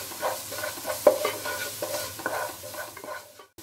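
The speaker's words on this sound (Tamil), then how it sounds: "சேர்த்துட்டு இது நல்லா வதக்கிக்கிறோம்" Okra sautés with turmeric and salt in a pan, a spatula scraping and tossing it in uneven strokes over a soft steady sizzle, close and moderate in level, with no talk.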